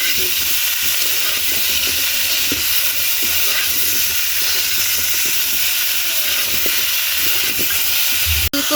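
Cauliflower with salt and turmeric fries in a pan, giving a continuous close hiss and sizzle with faint scraping underneath and one sharp click near the end.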